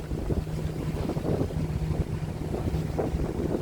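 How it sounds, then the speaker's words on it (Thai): Steady low engine drone of a departing ferry in Norway with wind buffeting the microphone and water wash, continuous throughout with no talking. "เรือกำลังออกเรือเฟอรี่กำลังออกเนาะ"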